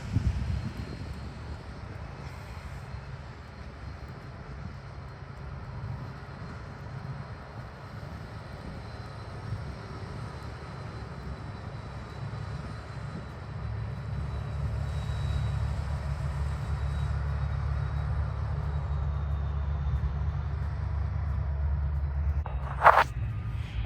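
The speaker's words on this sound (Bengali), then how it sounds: "এই যে দেখুন এইরকম মেশিন দিয়ে পার্কিং লটগুলো পরিষ্কার করা হয়" A snow-clearing machine works a snowy parking lot, giving a continuous low engine drone and grinding rumble that builds and holds steady over many seconds, with a brief knock near the end and no talking.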